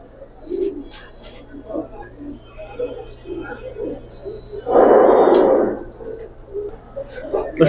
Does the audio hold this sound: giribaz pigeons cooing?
yes